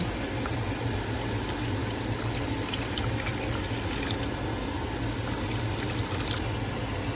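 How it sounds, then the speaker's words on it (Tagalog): Steady rushing water pours continuously into a pot, close and fairly loud, with faint splashing on top and no voices. "Lagyan natin ng tubig."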